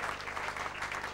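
Steady audience applause at a Dutch television broadcast, a dense, even patter of many hands clapping throughout with no voices over it.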